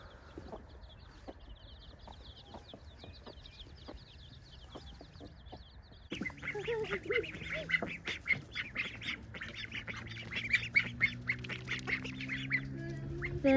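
Farm ducks and their eight growing ducklings quack and peep in a busy chorus, with shrill chick-like calls at first and then louder, denser quacking that builds toward the end, heard close by with no talking.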